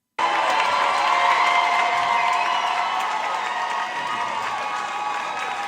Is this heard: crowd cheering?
yes